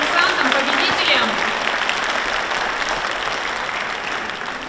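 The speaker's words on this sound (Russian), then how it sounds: "можно еще раз поаплодировать нашим конкурсантам, победителям" A concert-hall audience at a regional orchestra soloist competition applauds the contestants and winners, full loud clapping that gradually tapers, with a voice speaking briefly over it.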